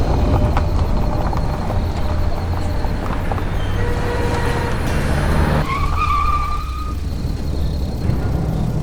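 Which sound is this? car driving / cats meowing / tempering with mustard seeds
car driving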